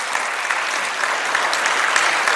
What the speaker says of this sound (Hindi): बजा लो ताली